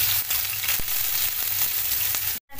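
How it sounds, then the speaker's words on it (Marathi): Bombil fish sizzle steadily in hot oil in a kadhai, a dense crackling hiss with small pops, cutting off abruptly at the end. "आता मी कढईमध्ये तेल गरम करायला ठेवलंय। तर आता आपण हे बोंबील त्याच्यामध्ये टाकूया।"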